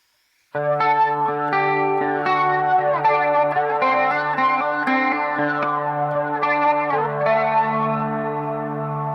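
Heavily modulated electric guitar notes shimmer and swirl with a wavering stereo chorus effect from a BOSS GT-1000 Core, fully wet, sustained and loud, a melodic line played over a held chord.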